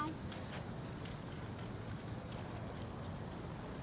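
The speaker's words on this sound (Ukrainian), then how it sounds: "Ой, як цикади." Cicadas chirring on a walk in Vietnam, a steady, continuous high-pitched drone that holds at even loudness throughout, over faint background rustle.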